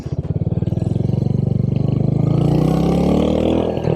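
A Royal Enfield Hunter 350 single-cylinder engine thumps close and loud while riding, its rapid even pulses rising in pitch as the bike accelerates.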